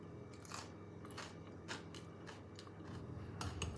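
A jalapeno pickled at home and refrigerated for over a month is bitten and chewed, producing close, crisp crunches and crackles in irregular bursts, with no talking.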